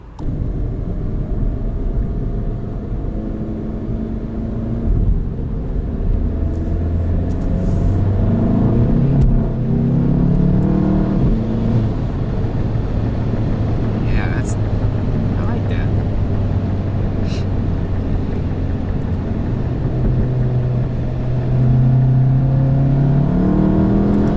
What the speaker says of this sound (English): A little bit more, definitely more diverter valve noise.